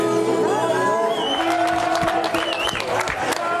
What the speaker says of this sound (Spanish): ¿y esto? ¿Esta ovación?